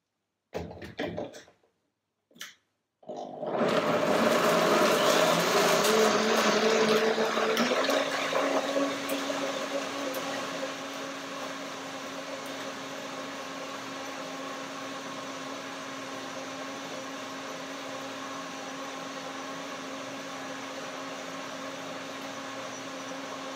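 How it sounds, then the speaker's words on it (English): A blender making dill lemon pea soup starts abruptly after a few short bursts of loud motorized whirring, then settles into a steady, slightly lower hum that runs on continuously. "Blender dance."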